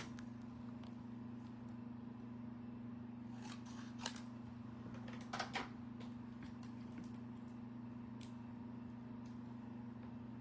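Scissors snip through a paper card for a handmade puzzle card, a quiet cluster of short crisp cuts in the middle, faint and close over a steady low electrical hum, no talking.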